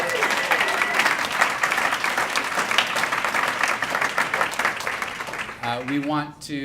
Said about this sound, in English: Feel free to clap for that.